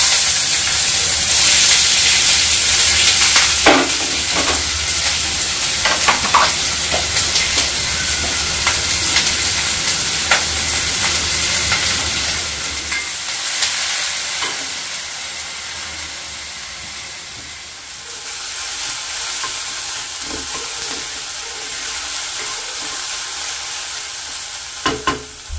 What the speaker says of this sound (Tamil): சரி அப்படியே நம்ம வெங்காயம் உருளைக்கிழங்கு வதக்கிடுவோம்.